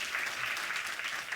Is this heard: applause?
yes